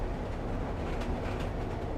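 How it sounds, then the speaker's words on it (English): A train starts to move with a dense, steady low rumble and noisy hiss, fairly loud and continuous, with no voices. "The train started moving"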